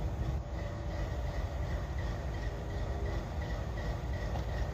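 A train on a railroad just before a hurricane makes a steady, close, low rumble that holds at an even loudness throughout, with no voices.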